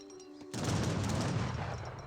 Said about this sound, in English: Gatling guns firing away.